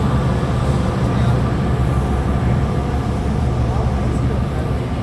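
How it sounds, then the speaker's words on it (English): A Chicago Metro train running along tracks beside the river, heard as a continuous loud low rumble with steady rolling noise and no distinct breaks. "You can see one of those Metro trains I was talking about earlier."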